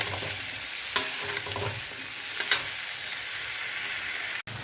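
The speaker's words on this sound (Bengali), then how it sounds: "এবার সমস্ত সবজিগুলোকে ভালো করে সাঁতলে নেব" Vegetables for a fish curry sauté in a hot pan, with a steady close sizzle broken by a couple of sharp stirring scrapes and no talking.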